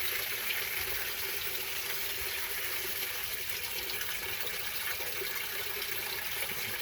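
A 2003 Whirlpool Gold Ultimate Care II direct drive washer fills with water, a steady, faint hiss of flowing water that runs evenly throughout.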